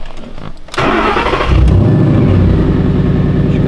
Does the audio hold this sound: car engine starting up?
yes